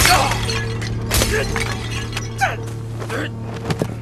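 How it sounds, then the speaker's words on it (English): A clay wine jar shatters over a man's head in a Chinese action film fight, a sharp crash of breaking pottery followed by scattered clinks and thuds over a low steady background hum. "smashing a wine jar over his head"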